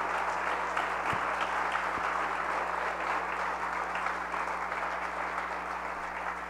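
Church congregation applauding during a sermon on the life and passion of Jesus, steady dense clapping at moderate distance that fills the hall and fades slightly toward the end.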